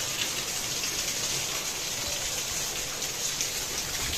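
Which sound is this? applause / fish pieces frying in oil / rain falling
rain falling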